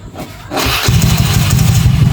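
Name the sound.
motorcycle engine started by remote starter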